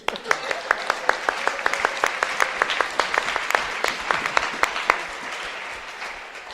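A church congregation claps in rhythmic, distinct beats, loud and close, with a faint voice briefly under the clapping as it tapers off at the end.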